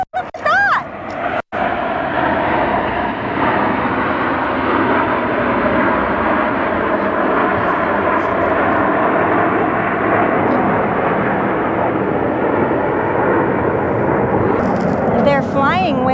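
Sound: jet aircraft flying overhead

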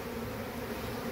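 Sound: bees buzzing around a honeycomb being cut

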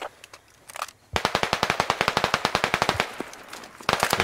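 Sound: RPK machine gun fire in the video game Squad

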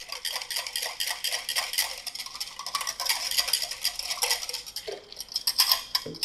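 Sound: stirring cashew gac milk tea in a container

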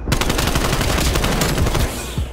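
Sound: AK74-U gunfire in Black Ops Cold War video game

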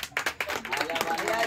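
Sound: clapping

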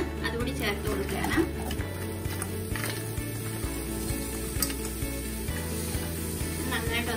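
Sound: chopped tomatoes sizzling while sautéing in a pan

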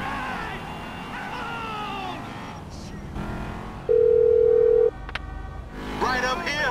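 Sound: phone call dialing on speakerphone in GTA V video game

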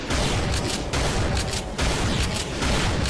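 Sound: shotgun firing in video game Brutal Doom

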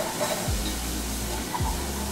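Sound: milk sizzling in a hot pot

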